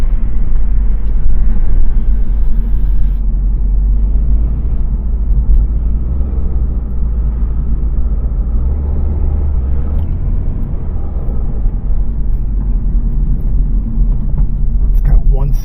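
A car's engine drones low and steady while being driven up through all the gears, with a worn windshield crack noted on an odometer reading 173; a constant rumbling hum fills the clip with slight shifts in pitch, and voices talk over it.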